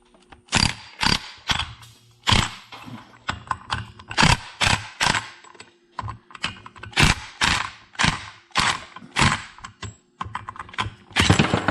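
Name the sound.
socket wrench loosening a nut on a Can-Am DS90X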